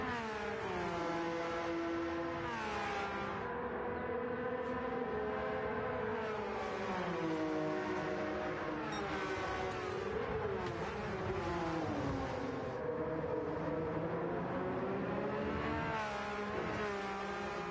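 Race cars in a racing video game sweep through a chicane, engines whining and shifting pitch as they brake and accelerate through the bends, a continuous layered drone with no talking.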